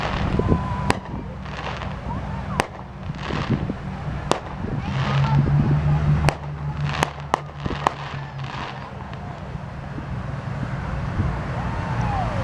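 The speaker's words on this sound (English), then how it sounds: "Second fireworks." Fireworks at a Christmas lighted boat parade in St. Albans, West Virginia, sharp distant bangs and pops scattered irregularly over a low rumble of passing road traffic.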